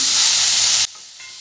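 Chopped medium tomatoes added to onions frying in a pan make a loud close hiss that cuts off abruptly after under a second, leaving a faint low sizzle.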